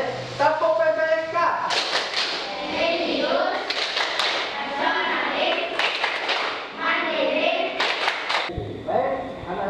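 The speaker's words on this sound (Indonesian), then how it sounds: "Semangat, kita tepuk PPK dulu." Schoolchildren in a fifth-grade classroom performing the PPK clapping chant, rhythmic bursts of hand claps and slaps in patterned groups interleaved with loud children's chanting voices throughout.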